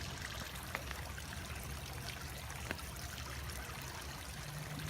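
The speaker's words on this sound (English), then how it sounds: "The waterfall only." Garden waterfall fountain in an urban edible landscape, giving a steady, soft trickling and splashing of falling water throughout, fairly faint with no voices.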